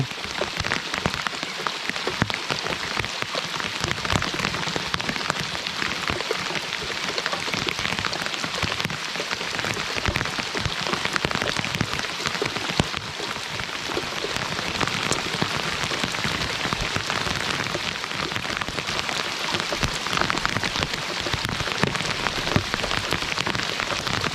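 Heavy rain pours steadily onto surfaces, a dense, continuous patter of drops with no voices, loud and close.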